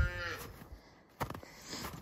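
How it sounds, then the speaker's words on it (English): A Shorthorn cow near her newborn calf gives a low moo that starts the moment and another later, close by in a quiet outdoor setting among trees. "This is one of the cows that Ed and Patty bought"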